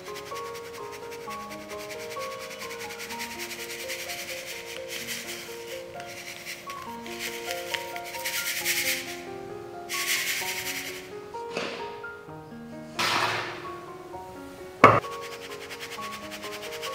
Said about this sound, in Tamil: இப்போ இதில் பார்த்திங்கன்னா இதில் ஜலித்து எடுத்துக்கலாம்